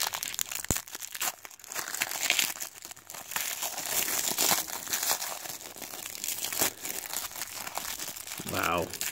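Crinkly plastic wrap is peeled and torn off a 2018 WWE Topps Women's Division trading card blaster box up close, with scattered rustling and crackling bursts and a voice speaking briefly over it.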